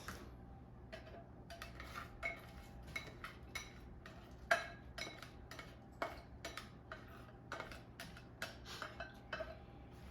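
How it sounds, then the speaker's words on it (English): Shaved Brussels sprouts tumble into a hot pan on high heat, giving faint, scattered light clicks and soft clatter spread over several seconds with no talking. "I'm going to turn the heat on high and add the Brussels sprouts"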